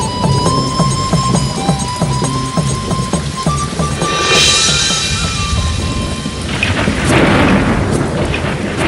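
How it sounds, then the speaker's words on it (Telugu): A thunderstorm with heavy rain, steady downpour hissing close by as rumbling thunder rolls in and swells louder midway, with no voices. "ఈ వర్షం వేరే ఇప్పుడే రావాలా?"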